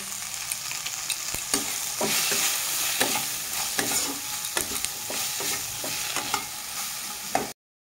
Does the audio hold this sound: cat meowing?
no